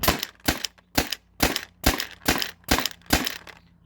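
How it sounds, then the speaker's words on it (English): Modified Byrna TCR launcher with a hopper firing back-to-back, eight sharp cracking shots at an even rhythm of about two per second, close and loud with no talk. "So I'll do a couple of back-to-back constant shooting, see what happens on the chrono."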